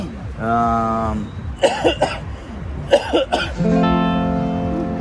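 A man coughs in two harsh bursts, one after the other, with a voice speaking before and after.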